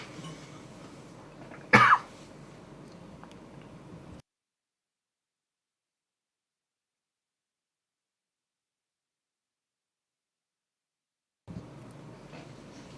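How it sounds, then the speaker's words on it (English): A single sharp cough rings out alone in a quiet room, followed by several seconds of complete silence. "I just had to cough."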